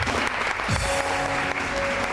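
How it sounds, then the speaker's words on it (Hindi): A studio audience on a talk show bursts into a short, loud round of clapping for a guest, a brisk wash of applause lasting about two seconds. "एक दफा जोरदार तालियां समरीन के लिए।"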